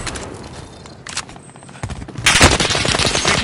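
Gunfire in Call of Duty, with scattered shots and rattling early on, then a loud, dense burst of rapid automatic fire in the second half.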